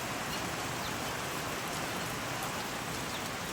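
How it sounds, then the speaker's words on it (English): Rain falls steadily outdoors near a doghouse sheltering birds, a soft even hiss of drops with no pauses, fairly faint and uniform throughout. "They're experiencing their first rain."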